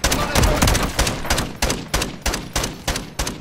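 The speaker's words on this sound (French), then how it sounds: "Avec la grosse mitraillette" Bursts of heavy machine gun fire from a Call of Duty match, first a dense rattling volley, then a string of evenly spaced, loud, sharp shots about every third of a second.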